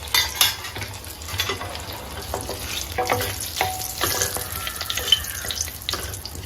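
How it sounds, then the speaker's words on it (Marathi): Whole garam masala spices, bay leaf, cardamom, cinnamon and peppercorns with cumin, sizzle and crackle in hot oil for dum aloo, with intermittent stirring clinks and scrapes nearby and no talk. "तर हे अख्ख्या गरम मसाल्यांचा सुगंध सुटेपर्यंत थोडे असे आपल्याला परतून घ्यायचे"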